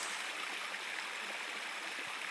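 A waterfall cascades over rocks in French Guiana, a dense, continuous rushing roar with no voices.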